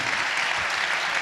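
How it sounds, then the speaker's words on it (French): A seated audience at a literary event claps in a dense, even burst of applause, steady and moderately loud for a brief moment. "On peut les applaudir les uns et les autres."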